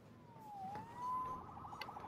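A police siren in Spider-Man Remastered, a single faint, distant wailing sweep rising and falling over low background rumble.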